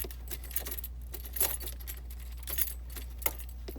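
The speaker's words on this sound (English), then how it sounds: "when I turn my key, nothing happens" Keys jangle and click in a Ford ignition lock cylinder with a broken, unturnable key, a few light metallic rattles over a steady low engine-bay hum, close and fairly quiet.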